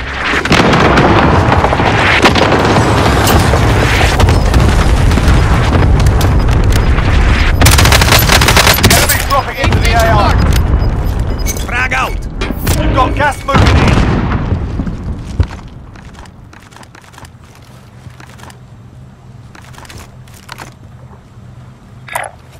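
Artillery strike explosions and gunfire in Call of Duty: Modern Warfare on Rebirth Island, a dense, loud barrage of booming blasts and rapid shots for about fifteen seconds before dying away to a quiet rumble.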